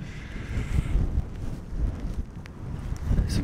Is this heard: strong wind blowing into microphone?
yes